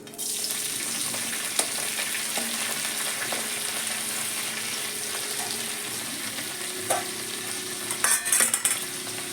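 Washed, still-wet neem leaves frying in hot oil in a wok give a steady close sizzle and hiss, with a burst of spatula clatter and spitting toward the end.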